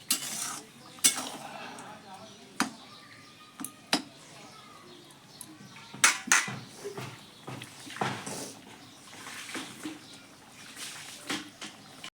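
Tomato chutney with raisins and sugar simmering in a pan, stirred with a utensil that makes repeated sharp scrapes and clinks over a soft bubbling background.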